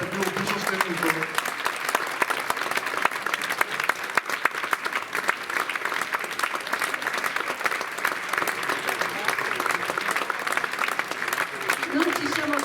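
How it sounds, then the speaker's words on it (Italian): Sala Europa in Taglio di Po rings with an audience's steady, crackling applause at a music evening, a dense, even clapping that runs throughout with a few murmured voices under it. "E qua l'applauso deve essere più sostenuto."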